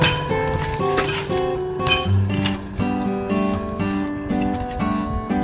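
A spoon or utensil clinks against a bowl while salted sliced beef is stirred, a few light taps scattered under steady melodic background music.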